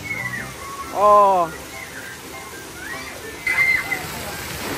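A filling bucket at the Hakone Yunessun spa tips and pours water with a rushing slosh and splash, heard under excited voices and a brief exclamation.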